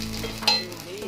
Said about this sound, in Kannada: ಮೇಲೆ ಒಂದು ಸ್ವಲ್ಪ ತುಪ್ಪ ಹಾಕ್ತೀನಿ